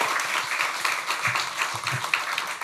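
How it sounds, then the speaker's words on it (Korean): A church congregation at a Sunday worship service applauds to welcome visiting youth and their leaders, a steady patter of many hands clapping at mid distance for a few seconds. "우리 청소년들 또 인솔하신 분들 다 같이 환영의 박수 한번 하겠습니다"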